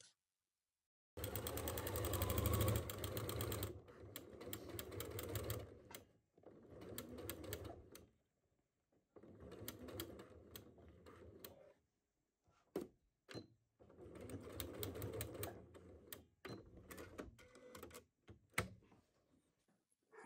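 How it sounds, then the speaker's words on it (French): A domestic sewing machine stitches a straight seam on fabric for a three-compartment storage basket, running in several steady whirring bursts of a few seconds each, separated by pauses and small clicks, close and clear. "On va passer à la machine à coudre pour coudre un point droit à 1 cm du bord"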